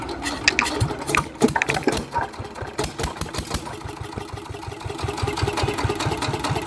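A small engine fitted by village mechanics sputters to life after being started with a hand crank, firing in irregular bursts before settling into a rapid, rattling chug that runs loud and close without voices.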